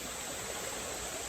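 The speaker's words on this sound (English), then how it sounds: "Right now, I can hear the river behind me." A river rushes behind the listener outdoors in the wild, a steady dense broadband hiss of flowing water with no pauses or voices over a brief stretch.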